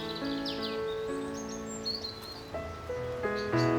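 Birds in spring hedgerows on Rathlin Island chirp and warble in bright bursts over a steady background, with several overlapping calls rising and falling throughout.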